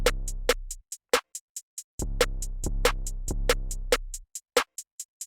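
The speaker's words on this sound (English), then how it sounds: "A typical pattern for an 808 looks like this." An 808 bass pattern on C programmed in beat-making software: long booming sub-bass notes under a crisp, steady hi-hat pattern and snappy hits, clean and alone with no talking.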